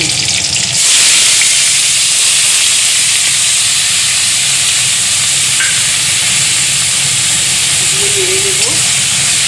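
Chopped onion and garlic dropped into hot oil for a Bengali lote fish curry with green chillies, dried chillies and bay leaf, bursting into a loud, dense, continuous sizzle and hiss close by.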